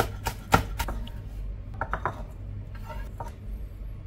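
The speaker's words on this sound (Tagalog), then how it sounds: "Tapos chop-chopin lang natin yan ng medyo pino at set aside lang natin yan" A knife finely chops spring onion, giving a handful of sharp, irregular knocks that cluster early and again midway, with quiet pauses between and no talking.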